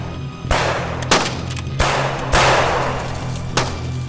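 Several loud gunshots, about five, ring out with sharp reports and short decays amid an armed chase toward a forest in a horror feature film, with a steady low hum underneath.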